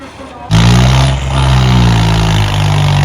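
A Swaraj 744 tractor engine roars to life and holds a loud, steady rev with a deep rumbling drone, close and continuous, at a tractor trolley pulling contest.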